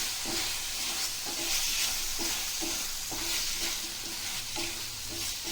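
Chilli paneer mixture with tomato ketchup stirred in a pan, a continuous sizzle with rhythmic scraping strokes of the spoon repeating steadily, close and loud with no talk.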